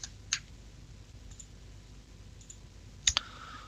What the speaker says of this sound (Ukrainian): клікаю лівою кнопкою мишки